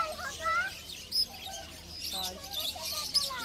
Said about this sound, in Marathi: जामच पक्षी आहेत भारी भारी